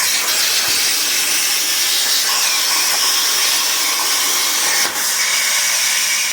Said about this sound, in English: That air coming out is to cool the plasma nozzle.